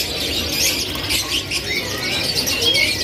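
Canaries chirp and squawk at a kiosk in Pramuka bird market, with shrill, overlapping bird calls and trills that go on steadily over a busy background hum.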